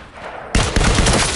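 Loud automatic gunfire erupts in a holodeck training program game, a sudden burst that breaks off briefly and then resumes as sustained rapid fire.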